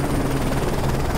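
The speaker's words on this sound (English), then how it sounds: "Enemy chopper closing on your position." An enemy helicopter in Call of Duty: Modern Warfare 3 fills a brief moment with a loud, steady rotor roar and no pauses.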